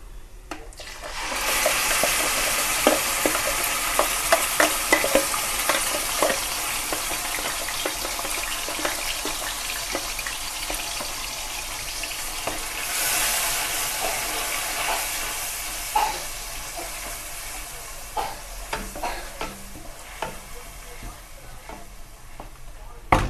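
Ground masala paste frying in a pan with oil for a matar paneer curry, sizzling steadily and close while a spoon scrapes and stirs through it, with no talking.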